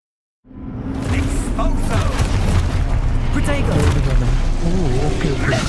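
Expulso explosion spell cast in the game Hogwarts Legacy, a loud booming blast that rolls into sustained rumbling debris and crackle, with a voice talking over it.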